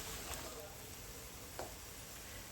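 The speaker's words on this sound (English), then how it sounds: "So we're just cooking them slowly, and in between I'm like just giving them a stir" Onions cook slowly in a pan, sizzling with a faint, steady hiss and the occasional scrape of a stir.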